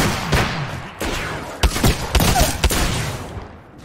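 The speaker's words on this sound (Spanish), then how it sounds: "¡Están disparando!" Rapid video game shooter gunfire rings out, dense continuous bursts with several sharp louder cracks in the middle, close and loud throughout, no voices.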